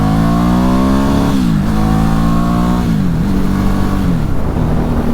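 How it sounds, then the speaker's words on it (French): A 2010 Ducati Hypermotard 1100 Evo twin pulling hard in second gear out of a roundabout, engine note climbing through revs with brief dips at shifts, loud and close with wind rush. "on va se faire une petite accélération en seconde"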